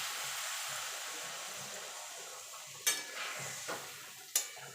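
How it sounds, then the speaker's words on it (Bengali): A pan of potatoes and spices sizzles steadily. Water is poured in with a few sharp splashing bursts, and the hissing rises as it hits the hot oil. No one speaks. "এবার দিয়ে দেবো জল"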